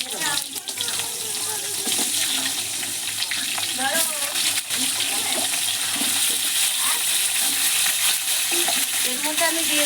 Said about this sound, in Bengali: গোটা জিরে, দিয়ে একসঙ্গে চিচিঙ্গা আলু আমি দিয়ে দেবো, দিয়ে ভালো করে ভেজে নেবো।